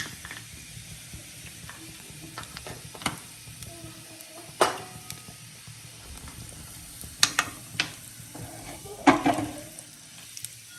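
Faint sizzling of cumin and asafoetida in oil with intermittent clinks and scraping of a spoon against a pan, several sharp taps standing out.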